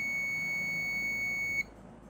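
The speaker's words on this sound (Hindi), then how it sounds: "हो सकता है कंडेंसर चार्ज है इसलिए बीप दे रहा है।" A Smart LED TV motherboard (TP.ATM30PB818) emits a steady, high, continuous electronic beep while its capacitor discharges, holding for about a second and a half before cutting off abruptly into quiet background hiss.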